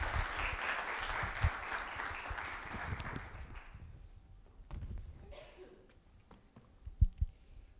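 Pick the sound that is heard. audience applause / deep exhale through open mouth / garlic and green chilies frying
audience applause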